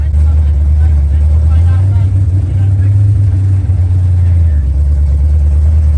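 A supercharged 1956 Chevy on the move, its engine a loud, deep steady drone close by that rises slightly in pitch mid-run before settling, with cabin noise around it.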